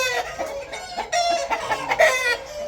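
Chickens clucking, rooster and hens together at close range, a busy run of overlapping clucks and squawks with no talk.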